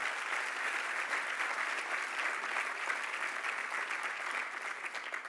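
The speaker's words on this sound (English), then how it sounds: "you all should give them another round of applause for being those change agents that we need to see" Audience at a Detroit press conference gives a sustained round of applause, an even, continuous wash of many hands clapping at moderate distance with no talking over it.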